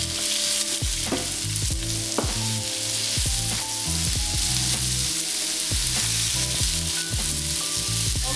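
Mushrooms sizzle steadily in a hot pan while a utensil scrapes and knocks against it in an irregular rhythm; loud and close, no voices.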